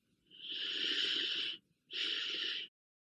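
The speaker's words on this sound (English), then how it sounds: "Breathe in through your nose, a deep double inhale." Two deep breaths drawn in through the nose during a cyclic sighing exercise: a long airy inhale, a short pause, then a shorter second intake, close and alone in quiet.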